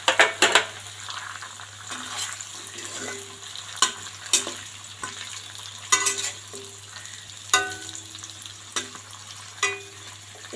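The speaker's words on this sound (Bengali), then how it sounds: "এগুলো আমি 1 মিনিট ভেজে নেব।" Chopped onions frying in a cooked spice masala for fried rice and chicken chili, a steady close sizzle broken by repeated clinks and scrapes of stirring, with no talk.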